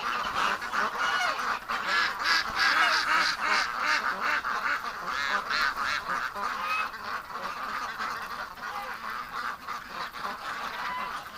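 Ducks or geese loose outside their pen honk and quack in a noisy, overlapping chorus, loud and rapid at first and thinning slightly toward the end.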